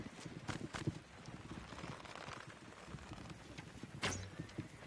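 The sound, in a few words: horse hooves clip-clopping in a video game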